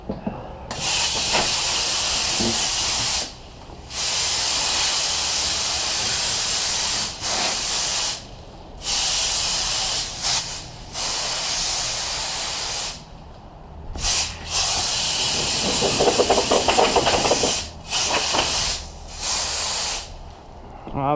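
A gas backpack leaf blower roars steadily while blowing leaves, a loud continuous hissing rush broken by several short pauses as the throttle drops, running on and off throughout.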